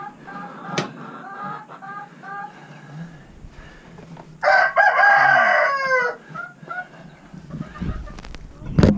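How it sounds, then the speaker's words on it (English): Chickens cluck in a homestead coop, with a rooster crowing loudly in a burst of harmonic calls near the middle, under occasional background noise. "we got a chicken in here"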